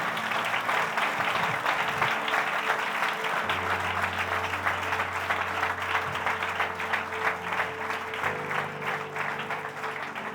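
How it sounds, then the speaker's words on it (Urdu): Loud, sustained applause from a church worship congregation, steady clapping throughout with a low hum underneath. "اے زوردار تالی اپنے خدا کے لیے"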